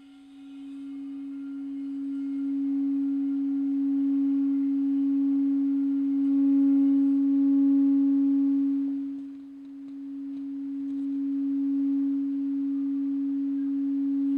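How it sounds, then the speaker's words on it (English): Crystal singing bowls ring in a steady, sustained resonant tone with faint upper overtones, swelling slightly and dipping briefly before continuing, close and clear with no talking. "get you nice and close to the crystal bowls, so you should be able to hear this for yourself."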